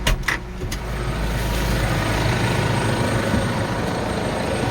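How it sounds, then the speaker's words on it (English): A steady, low engine rumble from a Claas Atos 340 tractor runs continuously at close range after a few brief knocks at the start. "As you can hear, it's quite a nice sounding tractor, smooth engine."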